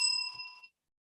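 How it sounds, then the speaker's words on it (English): A single bell ding at a hardware startup pitch contest signals that pitch time is over, ringing clear and fairly faint before fading within well under a second. "And when the time is over, we will ring the bell again."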